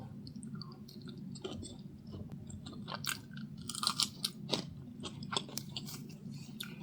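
Close, quiet chewing of roti with dal and fried cabbage, soft crunches and wet mouth clicks repeating irregularly over a low room hum, with no talking.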